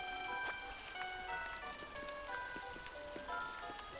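Rain falls in the Animal Crossing New Horizons video game as a soft, steady patter of raindrops, heard faintly behind gentle melodic chimes and music notes, with no voices.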